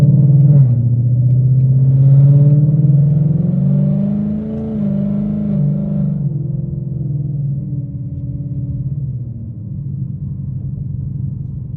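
An S550 Mustang on the road produces a steady, close, low engine rumble and drone that eases slightly after a few seconds, with no one talking.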